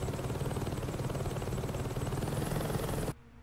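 A helicopter in the video game Saints Row 2 thrums loudly and steadily with rapid rotor chop for about three seconds, then cuts off abruptly.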